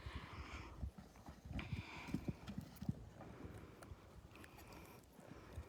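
Hooves of a draft cross gelding striking the ground in an uneven, moderately close series of thuds, with a low rumbling background and no talk.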